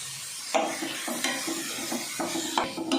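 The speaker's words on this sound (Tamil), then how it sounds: "சாம்பார் தூள், ஆட் பண்ணி நல்லா ஃப்ரை பண்ணி விட்டுக்கலாம்." Chilli powder and sambar powder frying in oil for a chicken gravy, a close sizzle broken by several clattering stirs and scrapes against the pan, no speech.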